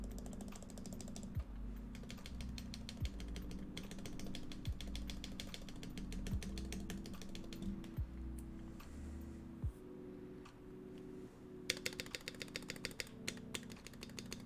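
Mechanical keyboard keys with stabilizers being pressed repeatedly before soldering, a steady run of crisp clacks and rattly thocks close up, a few louder key strikes near the end, no talking.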